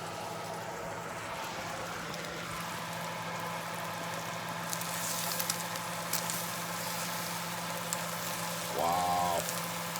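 Leek, egg and mushroom cook in a cast iron skillet with a faint, even sizzle that hisses steadily in the background. A brief tonal sound rises near the end.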